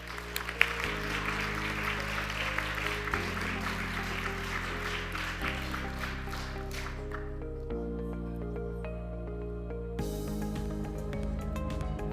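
At an HR awards ceremony, applause greets a director walking up to speak, with clapping heard over loud stepped walk-up music that continues after the clapping thins out.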